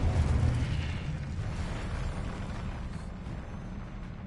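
A Confringo fire spell explodes in Hogwarts Legacy, a dense rumbling blast that stays loud and roaring for the whole stretch with heavy low-end boom and crackling noise, no voices present.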